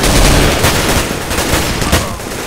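Dense video-game gunfire rattles continuously, bursts of automatic fire and sharp shots overlapping loudly throughout with no clear pauses.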